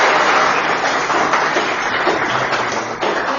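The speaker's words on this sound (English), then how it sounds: "One more big round of applause." An audience gives a big round of applause after a talk on digital transformation and data governance, a loud, even burst of many people clapping that holds steady throughout.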